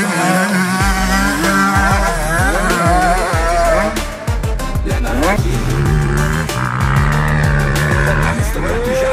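Motocross motorcycles roar around a race track at Bělá u Jevíčka, with engines rising and falling through rapid gear changes and revs, loud and continuous, with a voice speaking over the racket.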